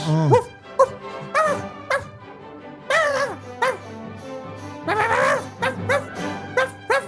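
A dog in a film scene barks and yips in a series of sharp bursts spread over several seconds, with some whimpering between them, heard fairly clearly over a quiet background score.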